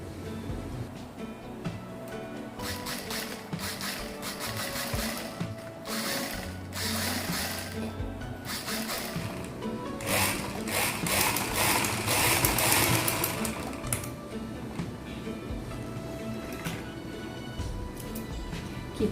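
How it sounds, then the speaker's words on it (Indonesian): A sewing machine stitches a gamis dress, a rapid mechanical whir with fast needle clatter that runs for a long stretch, speeding up and growing louder near the middle, close up with no talking. "Sekarang kita akan jahit."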